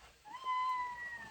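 A house cat gives a single drawn-out meow indoors, faint and fairly close, with a rising then falling tone lasting about a second.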